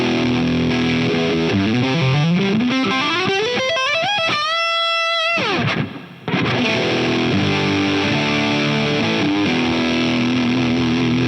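Electric guitar through a Karma Machine Shop pedal with its ODR and MTN overdrives combined at moderate levels, giving a thick, harmonically rich distorted tone: a rising sliding lead line, a brief pause, then sustained chords played alone.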